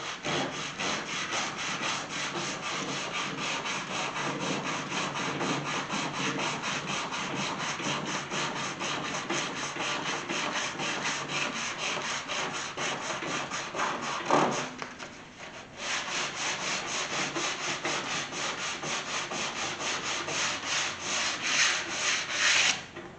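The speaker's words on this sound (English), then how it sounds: "Maybe I'll just keep sanding it like that" Steady, rapid back-and-forth sanding scrapes paint off a metal pedal car for a long stretch, pausing briefly once before the abrasive rubbing resumes.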